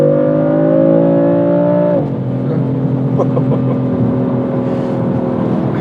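A tuned 560 hp BMW M4 engine revs high and steady, then drops sharply to a lower drone as exhaust pops crackle in short bursts, loud and close.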